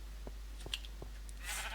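A Minecraft sheep gives a faint, brief bleat among a few soft clicks against a low steady hum, followed by a rise of hiss near the end.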